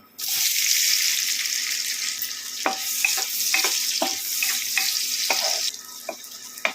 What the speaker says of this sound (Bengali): তেলটা মিডিয়াম গরম হলে তার মধ্যে পেঁয়াজগুলো দিয়ে দিচ্ছি